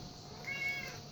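A cat gives a single short meow indoors, clear and moderately close against a quiet room background.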